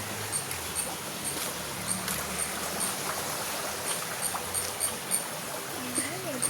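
A small stream flows with a continuous, moderately close rushing and trickling wash, steady from start to end with light splashes, and no voices over it.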